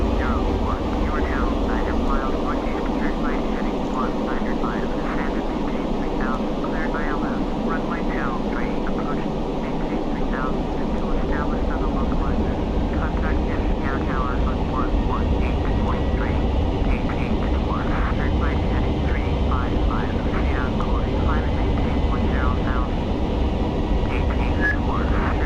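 Airliner engines in Microsoft Flight Simulator X after throttling back, a loud steady droning roar with a persistent whine, continuous throughout while someone talks over it.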